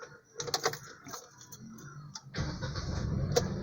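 A Hyundai HB20 car engine starting with the clutch pressed in neutral, a brief cranking whir followed by the engine catching into a steady low idle, heard up close.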